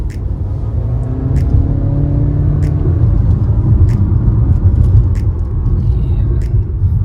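Honda CR-V 1.5 Turbo pulling away hard in S mode: steady loud low engine rumble and road noise heard from inside the cabin, with a faint rising drone early on and occasional light clicks above.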